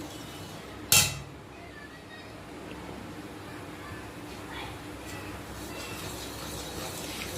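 Homemade ghee is stirred in a pan over very low heat. One sharp metallic clink of the utensil against the pan stands out, followed by a soft, steady bubbling and simmer underneath.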